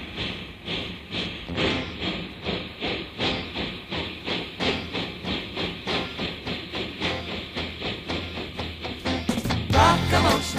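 A steam engine chuffs in a steady rhythmic pulse of hissing bursts, close and even, about three per second, with a sharp clank near the end.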